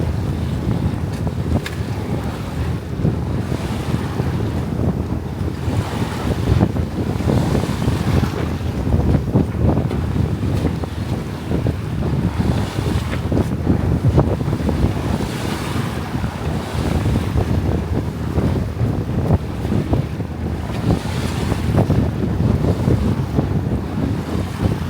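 Sailboat under way at sea with steady wind buffeting the microphone and waves washing against the hull, a continuous loud rushing roar that swells and eases throughout.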